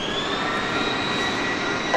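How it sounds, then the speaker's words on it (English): Steady whine and rumble of airplane engines at Dallas Love Field in rain, a constant high tone over broadband roar, loud and unbroken with no voices. "the rain sounds combined with plane engines is really soothing"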